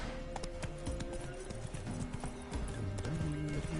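Roach, Geralt's horse in The Witcher 3, gallops in a rapid run of hoofbeats with a faint whinny, set against a busy game soundscape.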